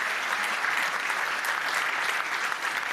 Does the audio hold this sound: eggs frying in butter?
no